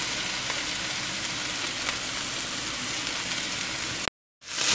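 Capsicum and cabbage stir-frying in a pan for vegetable noodles, giving a steady, dense sizzle that runs continuously up close before cutting out abruptly near the end.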